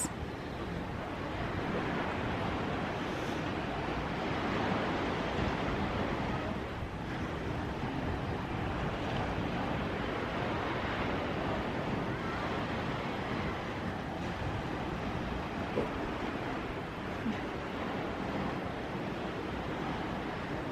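Ocean waves rolling onto a beach, heard from a balcony above, a continuous broad wash of surf mixed with wind buffeting the microphone, steady and moderately loud with no talk.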